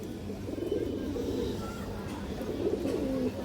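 Pigeons of show-quality breeds murmur low, soft coos at a pigeon seller's loft, faint and rolling beneath a steady wash of background noise.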